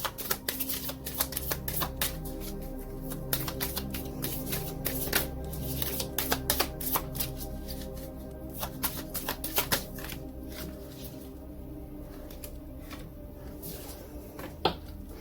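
Oracle wellness cards are shuffled by hand in a continuous close run of soft riffling flutters and slaps, with no speech.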